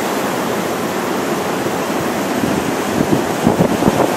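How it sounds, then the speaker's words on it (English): Hurricane Irene storm surge washing over a walkway, a loud, continuous roar of churning water mixed with wind buffeting the microphone, with heavier surges near the end. "you can see the water coming up, washing over"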